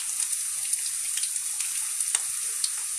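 Green plantain chips frying in hot oil give a steady, close bright sizzle with small crackling pops throughout and no talking.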